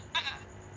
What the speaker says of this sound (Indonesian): suara embe ngaberele.